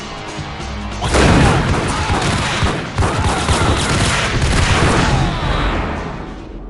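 Dense, loud gunfire from a Max Payne shootout, a continuous roar of overlapping shots and crashing impacts that swells and holds for several seconds, with shouting voices faintly mixed in.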